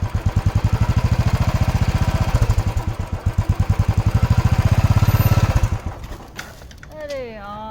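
A Royal Enfield Bullet motorcycle's single-cylinder engine thumps in a fast, even rhythm close by, rising and falling with the throttle, then stalls and cuts out, leaving brief rustling and a faint voice.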